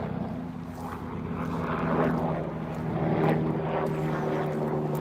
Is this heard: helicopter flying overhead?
yes